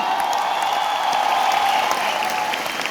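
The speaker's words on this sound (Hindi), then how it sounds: "एक बार जोरदार तालियां" Steady, loud audience applause at a Vestige event, a dense continuous wash of clapping lasting the whole moment without speech.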